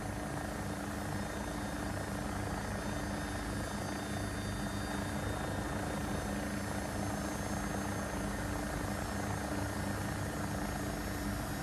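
Steady AW109SP Agusta helicopter rotor and engine drone in a flight simulator, a constant loud whirring hum with a low rhythmic thrum, unbroken throughout.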